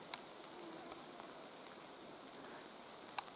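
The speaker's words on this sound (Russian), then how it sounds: "ну, все-таки все равно вон дождик капает." Light rain in a forest, with scattered drops ticking and pattering on leaves amid a faint soft hiss, quiet with a few sharper nearby drips.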